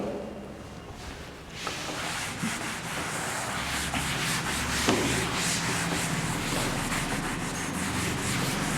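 Writing being rubbed out on a board during a chemistry class, a steady, close scrubbing rasp that starts after a quiet moment and continues evenly to the end.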